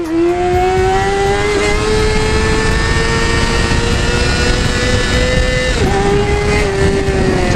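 A Yamaha R6 sport motorcycle engine howls loud and close as it is held at high revs for a first-gear wheelie, a sustained tone that climbs slowly and dips briefly near the end.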